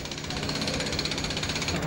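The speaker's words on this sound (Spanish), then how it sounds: "con un martillo hidráulico rompieron el bloque de hormigón" Hydraulic jackhammer pounding a concrete block, a rapid rhythmic mechanical rattle held loud and continuous throughout.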